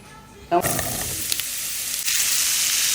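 Papaya frying in a pan over a tempering of chili and mustard seeds, a sudden loud sizzle bursting in as the food hits hot oil, then a steady close crackling hiss.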